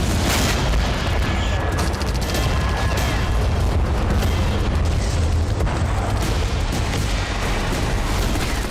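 Israeli tank fire and assault rifle gunfire in northern Gaza form a loud, dense, unbroken roar of booms and rattling shots that fills the whole stretch.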